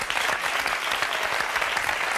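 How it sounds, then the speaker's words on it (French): A television studio audience applauds, a dense steady wash of many hands clapping together at full volume for the whole stretch. "Je vous demande d'applaudir Anne."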